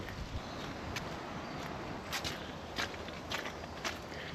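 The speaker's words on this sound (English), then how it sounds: "You can hear my boots squelching as I walk through all this mud." Boots squelch through soft mud on a muddy canal-side path with snowdrops, a steady run of close, wet footsteps with sticky pulls over outdoor background noise.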